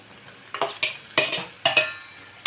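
Tomatoes go into okra (bhindi) frying in a pan, followed by a handful of distinct scraping stirs and clatters of the spoon, sharp and close, over a quiet sizzle.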